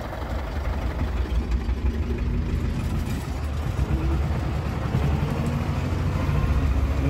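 A T-25 tractor engine chugs along while driving, a loud, steady, low rumbling drone heard up close with no talk over it.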